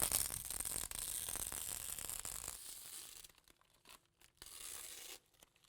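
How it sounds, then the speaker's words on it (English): Tape is peeled slowly off a resin worktop, giving a faint, close tearing and crinkling rasp that runs for a few seconds. Quieter intermittent scrapes and rustles follow. "This is the ideal time to remove the tape before the resin cures any further"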